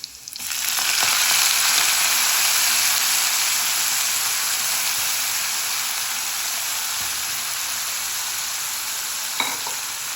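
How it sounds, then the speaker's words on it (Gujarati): Crushed garlic and fresh green fenugreek leaves hit hot oil with a sudden loud, steady hiss and sizzle that continues evenly, close up, with no talking. "તેલ મૂક્યું છે, એમાં મસ્ત પહેલાં લસણ વાટીને નાખીશું અને ભેગી એડ કરી દઈશું આપણી મેથી લીલી."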